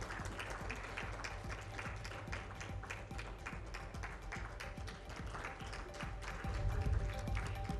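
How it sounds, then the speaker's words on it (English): Audience applause at an energy summit in a Hyatt Regency hotel ballroom, a steady dense patter of many hands clapping throughout, swelling slightly louder near the end, with no talk over it. "Let's give him a warm round of applause"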